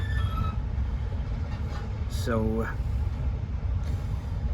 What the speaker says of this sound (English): this is a ScotRail train which is now back under public ownership